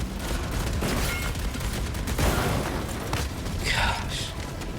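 Dense, continuous volleys of gunfire and booming impacts from Helldivers 2 combat, loud and close throughout, with a voice talking partly over it.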